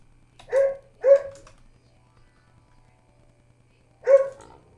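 A dog barks two quick sharp barks, goes quiet, then barks once more, fairly near in an otherwise hushed room with a low steady hum underneath.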